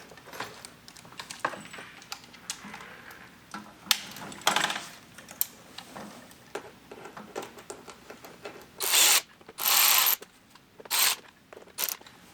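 A 4mm Allen wrench tightens bolts on a Rokblokz fender extension kit for a 2023+ Speed UTV El Jefe, making close, scattered metallic clicks and scrapes followed by a few louder, harsh bursts near the end.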